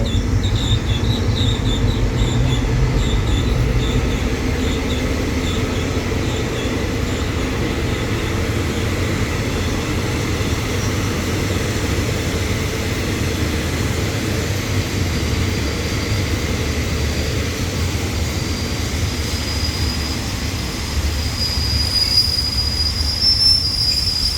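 Rapid train 169 rolls steadily through Wat Pong station in Thailand at close range, wheels rumbling with a continuous metallic squeal on the rails and a faint high whine near the end.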